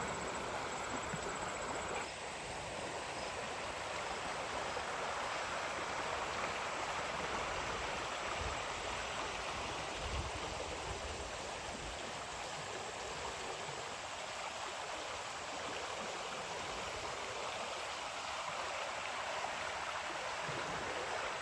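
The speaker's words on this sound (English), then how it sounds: "take in the water and the sounds of the bugs going," A continuous, even rush of flowing water from an outdoor stream among grass and insects, soft and distant, with no voices and no breaks across the whole stretch.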